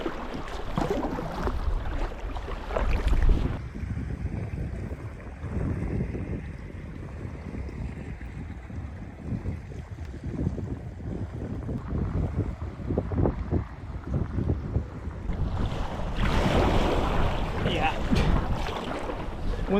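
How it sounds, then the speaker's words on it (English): Strong wind buffets the microphone on a Scottish loch while a kayak or canoe is paddled, a steady roaring rush that swells loudest at the start and end, with faint water sloshing beneath. "It's not the midges, it's the wind."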